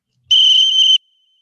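A single steady whistle blast, loud and close, holding a clear pitch for about two-thirds of a second before cutting off, with no talk over it.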